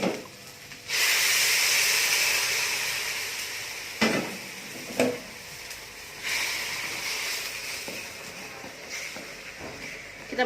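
Hot water poured into spices sautéed until golden for a West Kalimantan sour-spicy catfish dish sets off a loud, steady hiss and sizzle that slowly fades, broken by a few sharp clatters of utensils near the pan.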